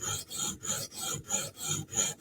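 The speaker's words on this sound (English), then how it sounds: "Trying to grind away here a little bit, make the bevel look a little bit wider." REX 121 steel Spyderco Sage knife bevel ground on a sharpening stone, with six or seven rhythmic back-and-forth rasping strokes, close and clear, with no talk.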